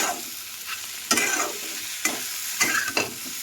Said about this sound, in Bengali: তাতে হলুদ, লবণ আর কাশ্মীরি লঙ্কার গুঁড়ো দিয়ে ভালো মতো আবার একসঙ্গে সবগুলো ভালো মতো মিশিয়ে নেব